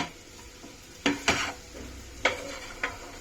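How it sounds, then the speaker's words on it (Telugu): Fried bitter gourd pieces are stirred in a pan, with a soft sizzle underneath and four sharp scraping clacks of the spoon against the pan, close by. "బాగా తిప్పుకోవాలి"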